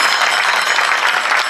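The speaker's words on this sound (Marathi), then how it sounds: "टाळी फक्त टाळी" Audience at a kirtan clapping hands, a loud, dense wash of many claps filling the short moment without pause.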